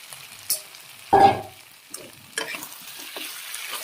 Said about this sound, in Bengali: ভাজা সোয়াবিনটা দিয়ে দিলাম